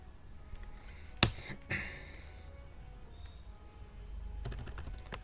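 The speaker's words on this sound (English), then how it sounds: "Let me type that one, sudo apt-get update." A computer keyboard clicks under a command being typed, with a sharp key strike, a few scattered taps and a quick burst of keystrokes near the end, close but quiet.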